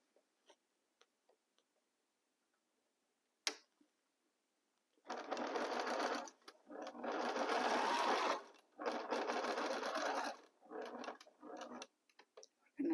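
A sewing machine stitching pieced fabric with a quarter-inch seam allowance, running in three steady whirring bursts of a few seconds each after light handling clicks and taps, close and clear.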